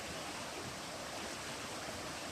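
Water flowing along a shoreline makes a continuous, even rushing wash, close and steady throughout, with no voices.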